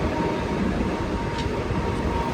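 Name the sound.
Mumbai local train departing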